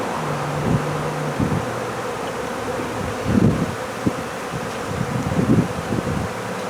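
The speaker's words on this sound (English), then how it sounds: "First free bees of the year." A swarm of honey bees hums in a dense, continuous buzz outdoors in a beekeeper's yard near a resource hive, with individual bees droning close past now and then and no voices.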